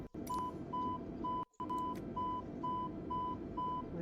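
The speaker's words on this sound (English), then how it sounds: "They're still beeping at me." Airbus A320 cockpit warning beeps in Microsoft Flight Simulator 2020: a steady, evenly spaced electronic tone repeating about eight times over a faint background hum, briefly cut once by a short dropout.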